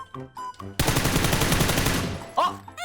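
Rapid automatic gunfire in the battle royale game PUBG rattles out as one sustained burst of closely spaced shots lasting about a second. A voice talks just before and after it.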